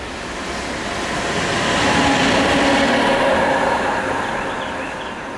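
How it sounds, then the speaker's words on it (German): A class 146 electric locomotive passes by, producing a steady broadband rumble and rush that swells to a peak midway and then slowly eases off, with no voices over it. "Das ist nur die 146 Lok."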